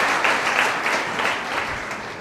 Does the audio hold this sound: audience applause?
yes